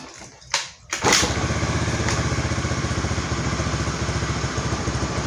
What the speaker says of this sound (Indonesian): Oke, ini kita akan nyalakan dulu motornya. Ini karena kondisi akinya tekor, jadi kita pakai engkol aja.